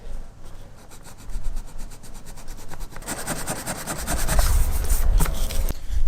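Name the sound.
sanding the edge of a wooden plug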